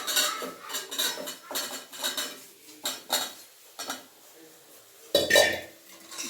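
Spoon stirring cucumber into a pot of Mangalore-style sambar with avarekai (hyacinth beans): repeated metallic scrapes and clinks against the pot in an irregular rhythm, close and moderately loud, ending with a sharper clank.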